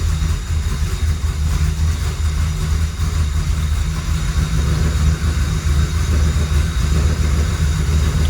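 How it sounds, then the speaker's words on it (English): A struggling engine being started with its startup flare control turned off, on a hard-to-tune engine that barely runs, gives a continuous loud, low, uneven rumble that wavers throughout, with no talking. "I'm going to see what no startup flare control does on an engine start."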